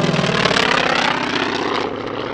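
Trojan propeller aircraft at an airshow, its piston engine a loud steady drone with a rough, pulsing propeller beat, slowly fading a little as it passes.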